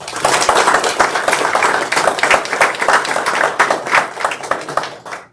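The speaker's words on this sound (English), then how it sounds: "let's give them all a round of applause" Audience at a city council meeting applauds steadily, a dense spread of close hand claps lasting about five seconds before tapering off at the end.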